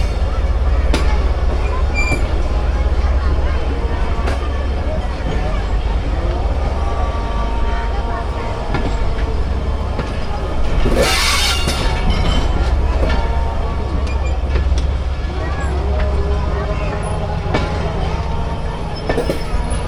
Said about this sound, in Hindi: कोटरी जंक्शन से निकल रही है हमारी ट्रेन